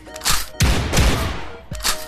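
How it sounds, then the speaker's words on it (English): Loud shotgun blasts in a VR shooter game, two sharp booming shots with rumbling tails about a second apart, a third fainter burst near the end. "Shotgun is overpowered and loud as crap."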